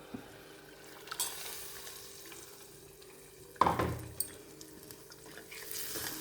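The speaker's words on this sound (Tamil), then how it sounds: "இந்த மசாலா எடுத்து ஊற்றிடலாம்" Ground masala paste is poured into a hot pan for a morning tiffin dish, giving a sudden loud burst of sizzling midway through, set against quiet background stirring and kitchen noise, with no one talking.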